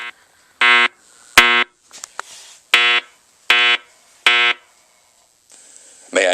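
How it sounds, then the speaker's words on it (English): A System Sensor SP201R fire alarm speaker sounding a temporal horn pattern: loud, buzzy tone bursts in repeated groups with short gaps, close and clear, with brief handling noises between. "Today we will be testing the system sensor SP201R fire alarm speaker."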